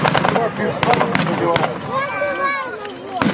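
Gunfire at a WWII battle reenactment of spring 1945 at an outdoor festival: a rapid series of sharp, loud shots crowds the first half, and a few more cracks come later under excited shouting and talk.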